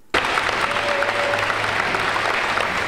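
A crowd bursts into sudden, sustained applause for high school athletes on early national signing day, dense and even from start to finish with no talk over it.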